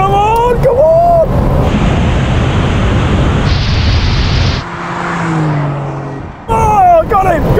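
Porsche 911 GTS petrol car in a drag race against a 450hp electric Porsche 911, its engine roaring loud and sustained near at hand before dropping away, with excited voices at the start and end.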